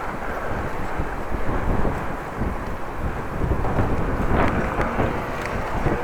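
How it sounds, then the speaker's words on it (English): Wind buffeting a microphone while riding a bike into a headwind on the Korreweg in Groningen, a constant loud rushing roar with gusty swells, no voices. "It's windy. I have a headwind at the moment."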